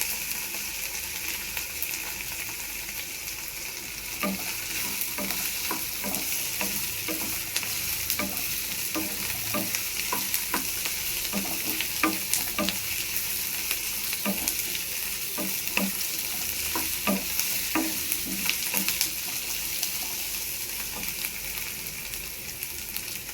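Potatoes with ginger and garlic fry in a pan, giving a continuous close sizzle broken by repeated sharp scraping strokes of a spatula at an irregular rhythm through the middle, with no speech.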